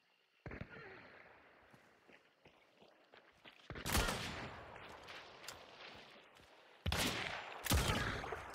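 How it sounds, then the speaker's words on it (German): Gunfire in the game Hunt: Showdown comes as a few loud, sharp shots with long rolling echoes, spaced seconds apart, among fainter footsteps and scattered background noise. "hinter dir wurde geschossen eben"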